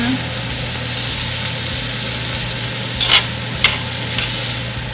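Onion sautéing in a frying pan for sukiyaki soup, a steady close sizzle with a low hum underneath and a few brief stirring scrapes near the end; no talking.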